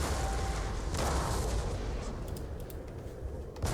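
Artillery counterfire in a Napoleonic battle video game set at Eylau, a dense, continuous roar of booming cannon fire and rumbling blasts that stays loud throughout, with no talking.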